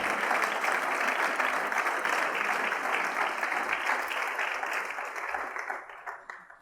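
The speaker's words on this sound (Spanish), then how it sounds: "Si le va a dar un aplauso," Sustained applause from a large crowd at a church service, dense and steady clapping that holds for several seconds before thinning and fading out near the end.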